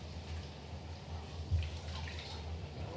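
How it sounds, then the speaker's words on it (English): Rice being washed by hand in cold water, with soft sloshing and dripping, a brief louder splash midway, and faint water sounds throughout. "Just cold water, wash, use your hands, give a nice rub to rice, and you'll see the water turns white."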